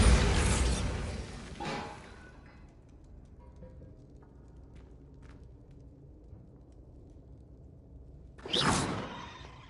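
A Bombarda spell detonates in Hogwarts Legacy with a sharp, loud crash that fades and leaves a quiet gap with faint rattles. A second strong burst follows near the end, and no one talks.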